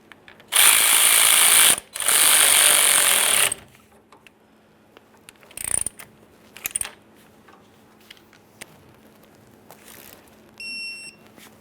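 A ratchet snugs the tie rod sleeve clamps on a 1994–2001 Dodge Ram 1500 in two loud bursts of rapid clicking, followed by scattered quieter tool clinks and short electronic beeps.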